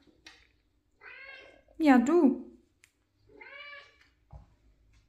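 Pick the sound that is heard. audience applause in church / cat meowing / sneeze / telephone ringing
cat meowing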